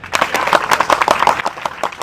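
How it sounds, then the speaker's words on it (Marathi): A crowd claps in applause, a brisk, close burst of many hands beating in quick irregular rhythm for about two seconds. "टाळ्या!"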